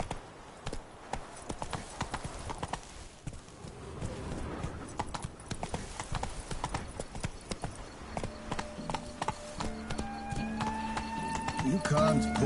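The horse Roach in The Witcher 3 gallops with rapid, repeated hoof clip-clops, close and rhythmic, with voices speaking over them and tonal music or a whinny-like sound rising near the end.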